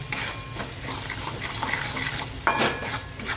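Spices roasting in hot oil in a pan for aloo paratha masala, kasuri methi among them, with the gas turned off: continuous soft sizzle under scraping and stirring, with a few light metallic clinks of a spoon against the pan.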